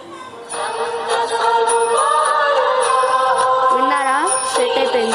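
A devotional song plays as the ringtone on a Redmi Note 8 phone. The melody comes through loud and clear from the phone speaker, with tonal singing and music running continuously and no talk over it.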